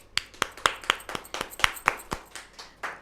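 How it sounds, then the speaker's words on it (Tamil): A dozen or so sharp, separate claps from a small audience, fairly close and evenly spaced, sparse rather than a full ovation. "நல்ல ஒரு கைத்தட்டு கொடுத்து நீங்கள்"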